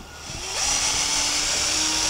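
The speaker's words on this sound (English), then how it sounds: "I'll drill. Then I have 2 holes." A power drill whirs up to speed and holds a steady, close whine as it bores pilot holes in a workshop.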